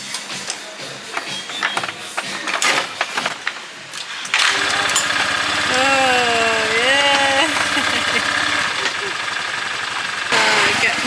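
An engine starts abruptly and settles into a steady loud idle with a rising and falling whine, outdoors on Bali after some talk and handling noises.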